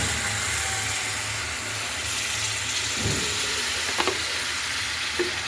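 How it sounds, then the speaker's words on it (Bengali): Cauliflower, potatoes and peas cooking in a pan after water is poured in, a steady bubbling hiss with a low rumble and a few soft clinks of a utensil near the end. "জল দিয়ে"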